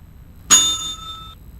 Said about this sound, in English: Let's get her attention by ringing the bell.